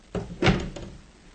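A door is shut indoors: a soft rattle, then a firm thud and a lighter click as it settles, quiet and close with no speech.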